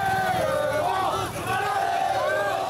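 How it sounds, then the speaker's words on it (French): A crowd of Le Mans FC football supporters cheers and chants around the team bus before a home match against PSG, a dense roar of voices and shouts close by, with a short dip partway through. "Une foule haranguée, des supporters tout feu tout flamme pour encourager et accompagner le bus des Manceaux."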